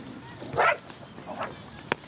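A small dog gives a short yip and a couple of soft whimpering barks, fairly quiet, in an indoor room.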